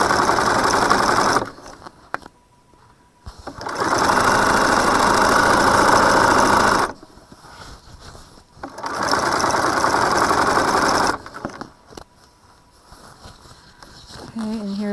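A sewing machine stitches a seam around the top of a fabric string bag, its steady whirring running in two long bursts separated by quieter pauses with faint handling sounds.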